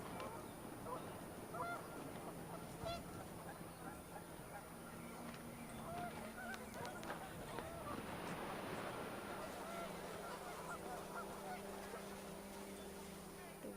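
Geese honking in the video game What Remains of Edith Finch, a scattered run of calls over wind and a busy game soundscape, with a voice speaking over much of it.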